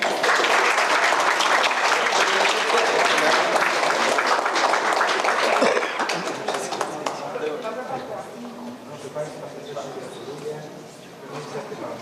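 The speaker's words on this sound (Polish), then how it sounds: "A ja Państwa poproszę o klaski." Attendees at a regional forum of non-governmental organisations give a loud, dense round of applause for about six seconds, which then drops off sharply, leaving scattered claps as a voice begins speaking.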